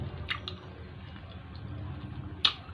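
Someone chewing tough, rubbery pork close to the mic, giving soft squishy, wet mouth sounds with a couple of sharper clicks.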